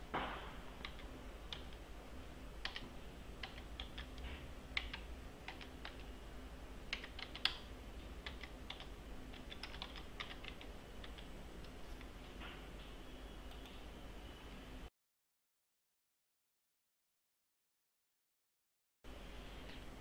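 Quiet typing on a computer keyboard gives a run of light, irregular key clicks. A gap of total silence falls partway through, and faint clicking returns after it.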